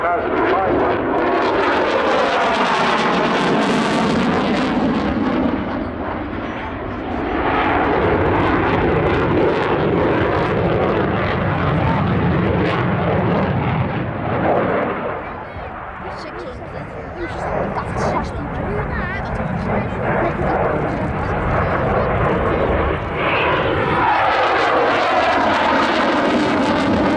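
A Eurofighter Typhoon jet flies past at the Southport Airshow, its engine roar loud and continuous throughout. The roar swells and fades with the pass, and a commentator speaks over it.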